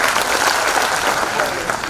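Audience applause at a speech, dense steady clapping from a large crowd filling the whole moment, loud and continuous.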